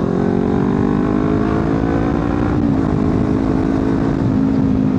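A Kawasaki Ninja 400 motorcycle ridden at night, its engine droning loud and steady with a smooth continuous hum and a slight pitch shift midway, heavy wind rush underneath, no talking.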